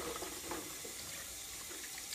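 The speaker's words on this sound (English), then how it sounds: "Just rinse everything out." Running tap water pours steadily into a sink as fitness testing equipment gets rinsed, a continuous close splashing with no talking.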